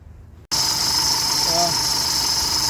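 A Nissan Navara D40 engine idling just after injector refit with the intake manifolds back on, starting abruptly with a steady, loud mechanical hum and a high whine that continue unbroken throughout.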